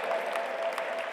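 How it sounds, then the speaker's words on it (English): A big audience breaks into steady applause at the G20 Interfaith Forum valedictory session in Pune, a brief, dense wash of clapping from many hands. "Let's give them a big round of applause"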